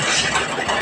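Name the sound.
sewing machine stitching fast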